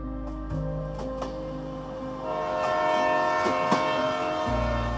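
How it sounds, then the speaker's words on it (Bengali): A train pulls out of a station with a steady low rumble, horn-like tones and rising mechanical noise that fills the scene, used as an effect in a Bengali suspense audio story. "খাওয়া শেষ হতেই আবার ট্রেন ছাড়লো"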